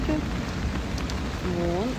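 Rain falls steadily outdoors in a dense continuous patter, a voice speaking briefly over it at the start and again near the end.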